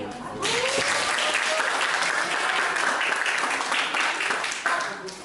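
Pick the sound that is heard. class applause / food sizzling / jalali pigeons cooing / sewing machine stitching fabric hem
class applause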